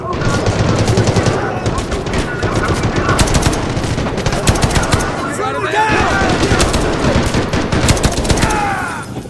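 Sustained automatic gunfire in the Delta Force Black Hawk Down video game, rapid machine-gun bursts rattling loudly and almost continuously, layered with further shots and booms throughout.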